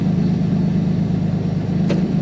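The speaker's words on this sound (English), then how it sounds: "the exhaust is not nearly as loud as I had thought it would be" The E85-fuelled Pontiac Fiero street/strip car's exhaust gives off a steady, moderately loud low drone while cruising, heard from inside the cabin, with a brief faint click near the end.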